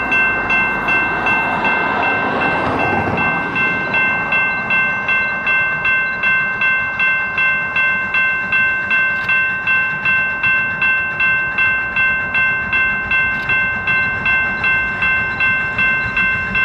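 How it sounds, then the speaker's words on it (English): A scenic railroad train rounds a corner and nears a grade crossing, its horn sounding steady and loud over a rhythmic rumble and clatter of cars that keeps pulsing evenly throughout. "The train glides around the corner and approaches the eastern 706 grade crossing"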